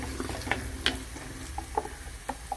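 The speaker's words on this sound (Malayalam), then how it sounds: "ഇനി നമുക്ക് അരച്ച് വെച്ച അരപ്പ് ഇടാം." A ground paste of chilli, coriander, turmeric, pepper, garlic, ginger, green chilli, shallots and tomato goes into frying onions for a sardine curry: soft sizzling under faint, scattered scrapes and clicks of stirring, with nobody talking.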